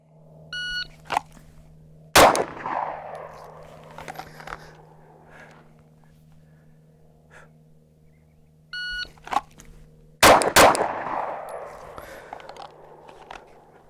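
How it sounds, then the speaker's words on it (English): A Glock pistol fires on a shooting range: a shot-timer beep is followed by a sharp, loud report, and the sequence repeats about eight seconds later, with quieter handling noises between. "Like I can tap twice, do 3 shots really quickly"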